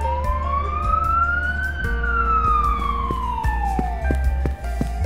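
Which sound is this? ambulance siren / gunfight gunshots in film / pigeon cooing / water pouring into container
ambulance siren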